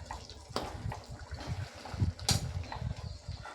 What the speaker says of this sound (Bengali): আমি প্লেটে করে অল্প করে একটু জল দিয়ে দিচ্ছি